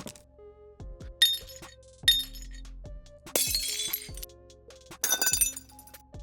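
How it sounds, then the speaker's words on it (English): Several separate glass-shattering effects, each a sharp breaking crash with tinkling, clinking shards, spaced out over a few seconds, close and fairly loud against a low tonal background. "And more shattering glass,"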